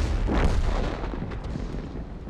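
A tank gun in World of Tanks fires a shell into the side of an FV202, a single heavy boom early on that rolls into a rumbling tail over ambient battle noise.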